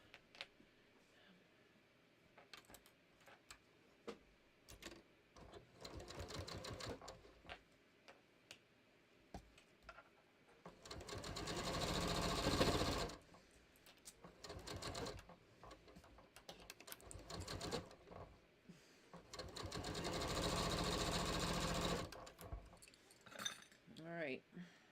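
A sewing machine bastes a garment top in short stitching bursts, with two longer, louder runs of steady whirring between quieter stretches of handling, clinks and small ticks.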